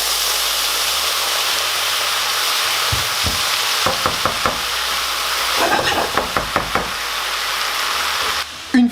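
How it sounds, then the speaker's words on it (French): White wine hits a hot pan of rice and onions for a mushroom risotto, giving a loud, steady sizzle and hiss, with several sharp knocks of a utensil against the pan partway through. "Je vais déglacer avec le vin blanc."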